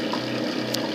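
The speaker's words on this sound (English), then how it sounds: "you can see water start to flow into the mash tun" A PicoBrew Zymatic pumps water into its mash tun, filling it for a single-step infusion mash: a steady, close, continuous wash of flowing and pumping water with no pauses.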